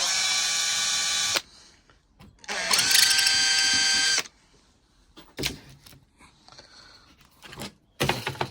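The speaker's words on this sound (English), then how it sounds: "So it'll be a case of just quickly drill through there and drill through there" A power drill whirs in two steady bursts, drilling holes through a Ford Focus Mk3 number plate, a longer one then a second after a short pause, with faint handling clatter between them.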